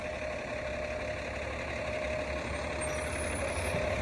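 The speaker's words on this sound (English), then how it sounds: "Oh boy, there's a fire truck." A fire truck engine idles steadily on a Toronto street with a low rumble and constant hum, some distance off, with no talking.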